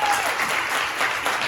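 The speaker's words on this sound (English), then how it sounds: "Let's give another round of applause for the candidates." Steady, dense audience applause at a congressional candidate forum, sustained throughout as a broad wash of clapping hands, moderately loud and close.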